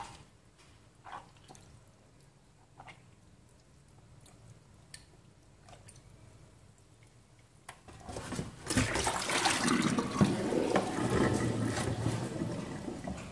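Water splashing and sloshing as pork intestines are washed, quiet scattered drips and small clinks at first, then a sudden louder burst of running, churning water that continues steadily to the end.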